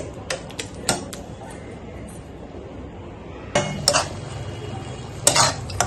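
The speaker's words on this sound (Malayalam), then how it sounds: "ഇത് കണ്ട നന്നായിട്ട് ഇളക്കി കൊടുക്കുക." Spoon stirring spinach and paneer curry in a metal pan, scattered clinks and scrapes, quiet at first and then louder clustered scraping near the end, with no talk.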